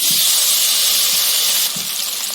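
Chopped tomato hits hot oil seasoned with turmeric and Kashmiri chilli powder, setting off a loud, continuous sizzling hiss that eases slightly toward the end.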